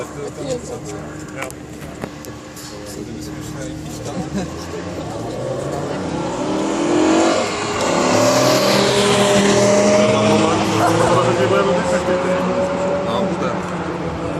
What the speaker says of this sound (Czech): Tentokrát je to BMW M6. Je to sériový auto, má to vysokootáčkový atmosférický 10válec